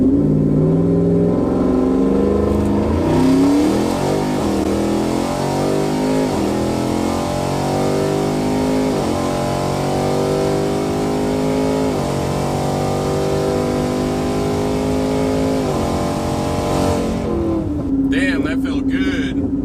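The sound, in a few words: twin-turbo Ford F150 5-liter engine wide open throttle launch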